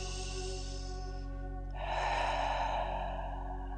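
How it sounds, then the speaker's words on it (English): A single deep breath drawn and released during a yoga shoulder and back stretch, the soft airy exhale swelling midway over a steady low room hum, with no talking. "Breathe."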